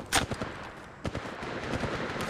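Gunfire from the mobile shooter Apex Legends Mobile: a sharp loud burst at the start, another crack about a second later, then rapid lighter shots rattling on.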